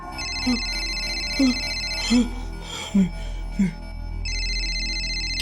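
A telephone rings in a repeating electronic trill, loud and close, cut through by five deep, evenly spaced thuds in the middle before the ringing resumes.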